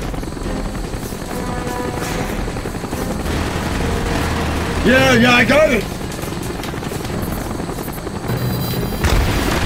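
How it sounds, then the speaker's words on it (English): Enemy helicopters in the final level of Call of Duty: Black Ops thrum steadily beneath bursts of gunfire and booming explosions, while players shout excitedly over the action. "you need to take down those helicopters!"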